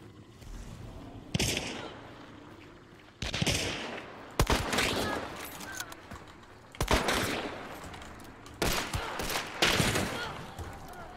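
Gunfire in the video game Hunt: Showdown: sharp, loud shots crack out in separate bursts roughly every second or two, each trailing off into echo, over faint background game ambience.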